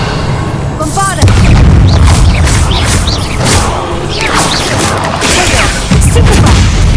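The Bombarda explosion spell in Hogwarts Legacy sets off heavy, booming blasts with crashes and whooshes across a loud, chaotic combat scene, and several impacts follow one another.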